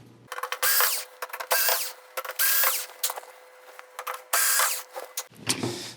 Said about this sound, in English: we can just take out these screws and we should be finished with this one